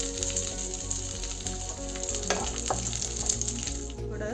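Peanut slices, red chilies, sesame seeds and curry leaves sizzle steadily in hot oil for masala fried idli, a dense continuous crackle with a few louder stirring scrapes partway through.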